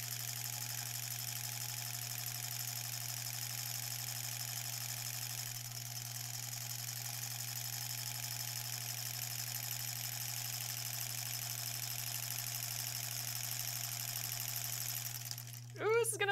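A sewing machine stitching a Halloween embroidered tote bag runs in a steady, continuous hum at close range, holding an even drone throughout before a short burst of other sound at the very end.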